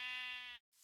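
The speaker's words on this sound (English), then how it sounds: "One more white sheep. One more white sheep." A white sheep bleats in Minecraft, a single sustained, buzzy harmonic bleat lasting about half a second, then a brief silence and a short soft hiss.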